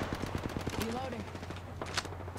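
A quick burst of rapid gunfire in Apex Legends, followed by scattered shots and game noise as a voice speaks briefly.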